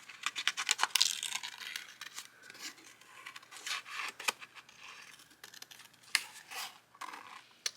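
Scissors snip out a paper scrap for a journal page, a run of light, crisp cuts and rustles close by with short pauses, no talking.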